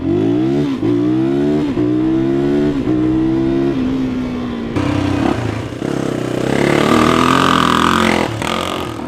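Honda XR250R dirt bike engine, a 1979–2004 trail bike, revving hard and close, its rising and falling engine note cycling through several loud throttle blips before a rougher, higher-pitched surge.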